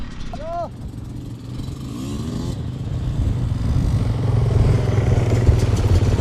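An enduro motorcycle on an off-road experience day, its engine idling and revving as a rider practises clutch and throttle control, the engine note building toward the end with clattering under people talking.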